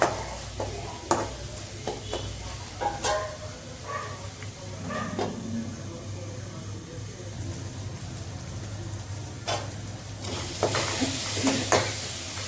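Onions and tomatoes sauté in a pan for a seafood dish and are stirred repeatedly, a steady close sizzle punctuated by spatula scrapes and knocks throughout, with a low background hum and no speech.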